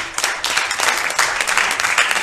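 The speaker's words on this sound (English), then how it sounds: "Can we give God another hand clap of praise" Congregation in a church service clapping hands in praise, a dense, steady wash of applause from many people filling the room for the whole stretch.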